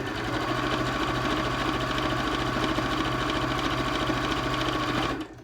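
A sewing machine stitches a fabric face mask in a steady, continuous whir for about five seconds, then stops abruptly near the end.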